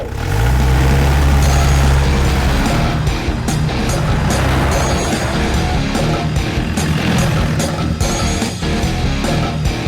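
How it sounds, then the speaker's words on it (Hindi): A car in a Hindi-dubbed thriller horror film is driven off, with a loud engine rumble and low revving at the start, then continuous road noise with clunks and rattles. "गाड़ी निकालो, गाड़ी निकालो।"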